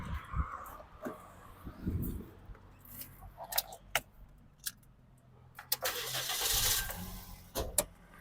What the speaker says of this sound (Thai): สตาร์ททีเดียวติดนะครับผม เครื่องเงียบนิ่มเงียบดีนะครับ